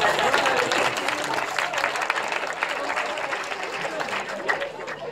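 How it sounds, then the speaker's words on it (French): An audience at a civic gathering applauding a college principal, sustained dense clapping from many hands filling the room, with a voice briefly audible over it. "il faut l'applaudir"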